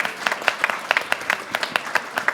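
A small group claps for someone at a talk about social media, with sparse, distinct individual claps in an uneven rhythm, close and moderately loud.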